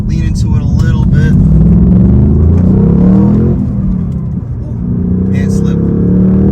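A 2022 Ford Mustang Mach-1 with a manual gearbox and Handling Pack revs hard through a gear change: a loud, deep engine roar climbs, dips briefly at the shift, then builds again. Talk from inside the cabin runs over the engine.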